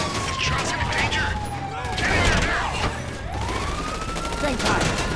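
Rapid gunfire in a video game, with dense overlapping bursts of shots and sirens wailing under chaotic noise, loud throughout, while a voice talks over it.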